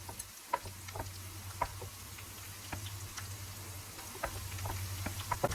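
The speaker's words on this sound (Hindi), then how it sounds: "हल्की हल्की ये फ्राई हो रही है, इसको हिलाते रहें" Potatoes frying with green chilli, ginger and cumin seeds in a pan give a quiet, steady sizzle scattered with small ticking crackles and pops, close but faint, with no talking.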